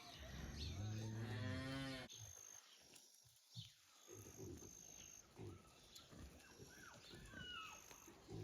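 Friesian and Jersey cattle on a hilly New Zealand farm: a loud, drawn-out moo sounds close by, followed by quieter outdoor rustling, a person talking and further faint animal calls.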